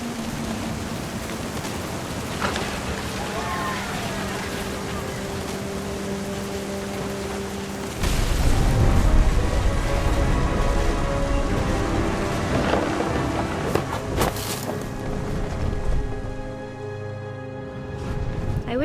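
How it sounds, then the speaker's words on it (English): Heavy rain and rolling thunder in the game What Remains of Edith Finch: a constant dense downpour with a deep rumble swelling midway and lingering, loud and enveloping throughout. "thunder sounded much too close and full of angry power."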